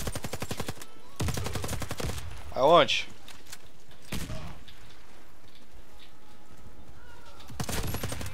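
Gunfire in the online shooter Warface fires in rapid automatic bursts, loud and sharp, separated by pauses, with a player's brief voice between shots.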